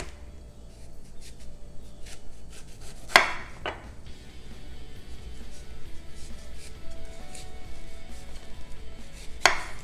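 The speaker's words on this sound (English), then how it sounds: "cut both ends off, and then you're going to cut it into thin, long strips" A knife slices a zucchini into thin, long strips on a cutting board, giving a few sharp, isolated taps spaced seconds apart over a quiet kitchen background.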